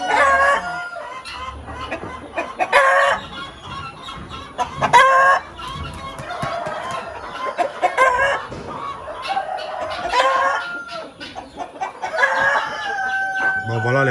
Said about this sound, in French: Donc voici la loge prévue pour les poulets Brahma.